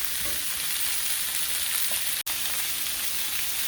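Tomatoes fry in a pan for Vietnamese crab noodle soup, giving a loud, steady, close sizzle that fills the whole moment, broken by a split-second gap.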